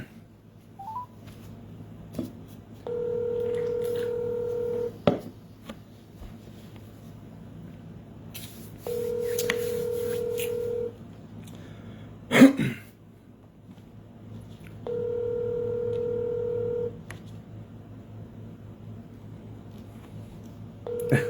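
Three separate bursts of touch-tone dialing beeps, each lasting about two seconds, as a cold call is placed from a phone to a landline. Quiet room hum and a few soft clicks fill the gaps.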